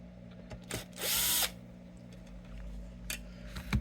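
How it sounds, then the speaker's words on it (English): Screws being backed out of the pick guard on a 1971 Gibson Les Paul Deluxe with a small power driver, giving one sustained whirring burst amid scattered clicks and taps, close and fairly quiet. "So let's take the pick guard off as well."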